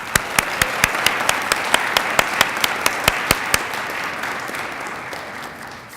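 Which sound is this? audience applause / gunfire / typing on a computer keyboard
audience applause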